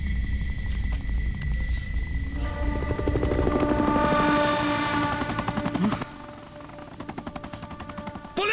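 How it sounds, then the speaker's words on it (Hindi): A police helicopter flies overhead in a dubbed action film scene, its rotor chopping in a fast, loud flutter that swells and shifts, mixed with rumbling and dramatic background effects. "पुलिस हेलीकॉप्टर भागो जल्दी।"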